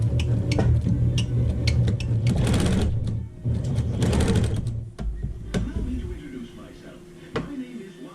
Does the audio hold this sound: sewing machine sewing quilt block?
yes